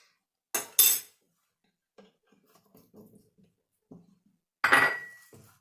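Metal spoons clink against a dish while measuring thick honey for a homemade cough remedy: a couple of sharp, close clinks, a stretch of faint handling noise, then one more bright clink.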